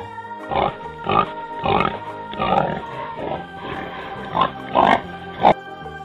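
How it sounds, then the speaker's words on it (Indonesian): Pig grunting and oinking in a series of about nine loud, close squeals and snorts spaced unevenly, heard alone with no talk. "itu suara babi"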